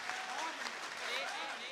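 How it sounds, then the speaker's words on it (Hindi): Sustained, dense applause from a large audience at a Hindi kavi sammelan poetry gathering at Impact College in Patna, a steady even roar of clapping throughout. "एक बार पूरा सदन जोरदार तालियां बजाए अभी तक के कवि सम्मेलन के सम्मान में।"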